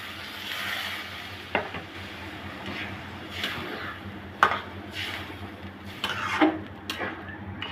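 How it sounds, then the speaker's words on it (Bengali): Water poured into rice frying with spices in a pot for prawn biryani, then stirred: a soft bubbling sizzle with scattered spoon scrapes and clinks against the pan, close and moderately quiet. "এখন এই পর্যায়ে আমি দিয়ে দেব পরিমাণ মতন পানি।"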